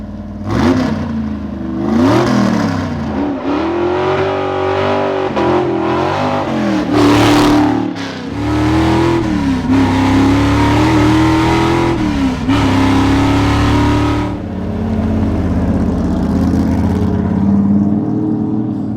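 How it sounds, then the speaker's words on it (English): A 1955 Chevy Gasser hot rod engine revs hard and loud up close, its pitch climbing and falling through repeated throttle blips over a sustained rumbling idle for the full stretch. "this is my 1955 Chevy Gasser"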